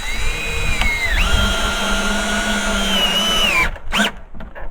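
A power drill bores into wood while a stable is being built, its close, loud, steady whine holding for several seconds before winding down, followed by brief clattering handling noise.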